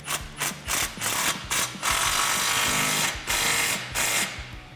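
A 15mm socket ratchet tightens the rear exhaust clamp on a Magnaflow axle-back for a 2015-2019 Dodge Challenger 3.6L, giving close, repeated bursts of ratcheting clicks in an uneven rhythm with short pauses between strokes.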